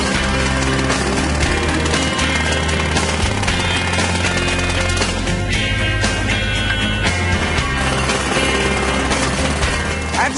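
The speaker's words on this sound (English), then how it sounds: "the jackhammer makes you look really tough" A jackhammer breaks up asphalt to open a large pothole, pounding loudly and continuously at close range with a dense mechanical rattle.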